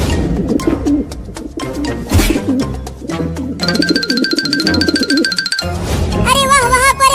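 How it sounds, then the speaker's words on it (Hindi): A pigeon coos softly in cartoon-like soundtrack, repeated gentle calls mixed with bright synthetic effects and musical tones. "वहाँ पर एक कबूतर जमीन पर चल रहा है।"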